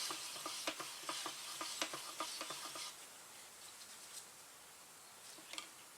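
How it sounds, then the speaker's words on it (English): Colorshift chameleon pearl paint being stirred in its can, a series of soft, close scraping taps in a steady rhythm for about three seconds, then near silence with a few faint clicks. "It's always good to stir it up, even though they just made it"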